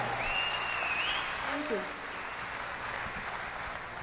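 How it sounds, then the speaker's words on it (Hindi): Sustained, dense applause fills a large Amway Diamond event hall as a man welcomes his wife to the stage, a steady wash of many hands with a brief voice showing through early on. "जोरदार तालियों से स्वागत कीजिए मेरी ब्यूटीफुल वाइफ"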